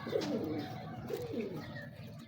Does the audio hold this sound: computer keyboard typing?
no